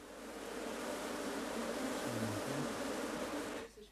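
Scutellata honeybees make a steady, faint, dense buzzing hum that holds evenly before cutting off near the end.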